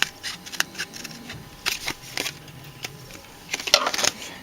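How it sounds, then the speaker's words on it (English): Scissors snip through paper in a string of short, crisp cuts, some spaced out and others in quick clusters, close to the microphone. "cut off the excess just with my scissors"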